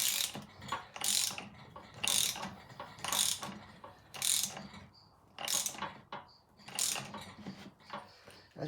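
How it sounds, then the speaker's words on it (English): A ratchet wrench clicks in quick bursts while a bolt is tightened on a Puma gearbox, about eight short rhythmic ratcheting runs separated by brief pauses, close and fairly quiet. "So now I can tighten this bolt."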